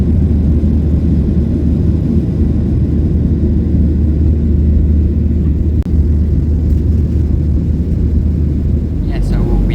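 Inside an airliner cabin during a flight descending toward London Stansted, a steady, deep roar and rumble fills the space evenly, with only a brief faint click partway through.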